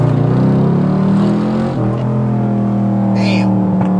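Chevrolet Camaro SS with about 100,000 miles, its V8 exhaust droning steadily up close as the engine drops revs on a downshift, with a short burst of crackle partway through and a voice talking over the engine note.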